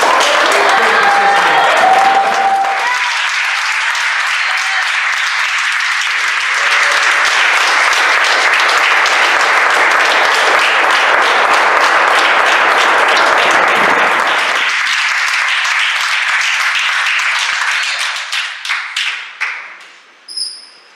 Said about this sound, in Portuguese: Vamos lá realmente aplaudir ao Senhor